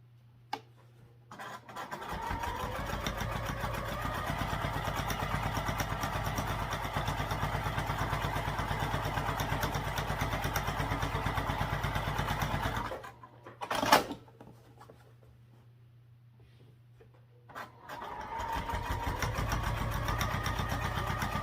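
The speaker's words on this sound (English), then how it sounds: "So we want to top stitch on the liner sides." A sewing machine top stitches along the sides of a fabric wallet liner, running in a steady, loud whirring burst for about ten seconds, pausing, giving a short stitch, then starting again near the end.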